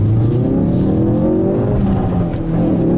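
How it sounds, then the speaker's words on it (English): A 2017 Ford Focus RS engine revs loud and close, a continuous throaty roar whose pitch climbs and holds with no voices over it. "Revving up."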